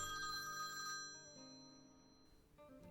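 A mobile phone rings from inside a bag at a restaurant dinner table in Taichung, its quiet tonal ringtone strongest at first, then fading and softly returning, with no one talking.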